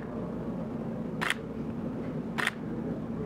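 Two sharp Sony A7R III shutter clicks about a second apart during an indoor portrait session, each a crisp brief snap over a steady low room hum, with no talking.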